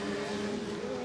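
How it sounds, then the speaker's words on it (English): A California Lightning Sprint car racing past at Bakersfield Speedway, a steady loud engine drone with a sustained tone over a brief moment. "the first car out across the line"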